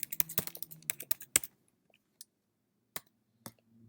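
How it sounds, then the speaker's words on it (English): A password is typed on a computer keyboard, a quick burst of close, crisp key clicks followed by a few sparse single presses after a pause. "You're going to type in your password."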